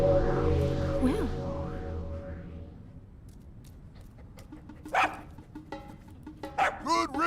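A dog in the video game Zelda Breath of the Wild gives a few short, sharp barks near the end. They follow a stretch of game music and come over a steady background hum.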